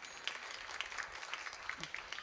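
Steady applause from an audience at a Marathi kirtan devotional gathering, a dense continuous patter of many hands at moderate distance, fairly soft throughout.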